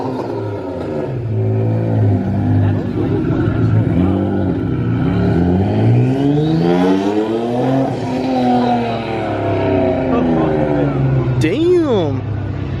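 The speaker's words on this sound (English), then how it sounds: "That NSX is revving." A Honda NSX engine revs repeatedly at a muscle car meet, rising and falling sweeps of engine pitch over a loud steady crowd and traffic bed, with people talking nearby.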